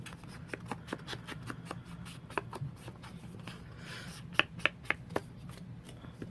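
Short dry dabbing and brushing strokes from an ink pad being worked around the edges of blush-colored paper for a junk journal, a quick irregular run of soft taps over a low steady hum.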